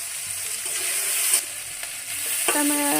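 Spice masala fries and sizzles in a pan for a vegetarian potato curry, a loud steady sizzle with stirring scrapes, then a sharper burst as a little water hits the hot masala near the end.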